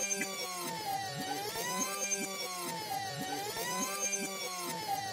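Time-rewind effect from the video game BLiNX: The Time Sweeper, a continuous warbling, siren-like sweep that rises and falls in repeating waves over a busy rhythmic game background.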